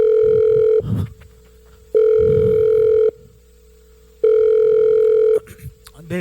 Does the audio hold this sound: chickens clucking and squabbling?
no